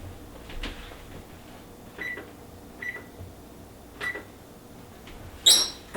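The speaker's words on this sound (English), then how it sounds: "Let's make sure my racks are in the right place" Metal oven racks shifted and slid into place before baking cookies, with a few scattered clinks and scrapes spaced about a second apart, close and fairly faint, with no talk.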